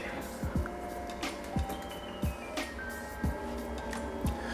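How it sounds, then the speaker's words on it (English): A Mutoh VJ 628 DTF printer runs nearby with regular clicking ticks about once a second over a steady mechanical hum, with faint traces of a voice in the background. "I see the printer doing its thing."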